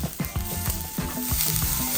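Chopped scallions sizzle in a hot pan of steak fried rice, a loud steady frying hiss with quick scraping stirs and clinks of the utensil against the pan.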